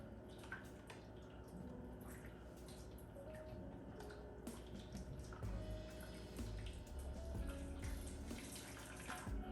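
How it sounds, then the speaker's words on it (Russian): Boiling water from a kettle poured into a baking tray beneath pastry puffs, a steady close pour and splash that runs the whole time with faint kitchen clatter. "Вот так вот берем кипяток и наливаем его под наши слойки."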